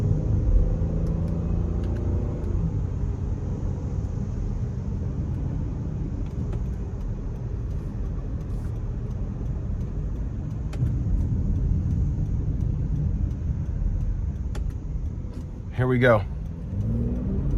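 A 2025 Honda Pilot Touring gathers speed from inside the cabin, a low steady engine and road rumble that rises gently with acceleration while someone talks over it.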